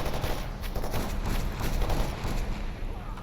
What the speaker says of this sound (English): People are shooting each other to death in here, dude.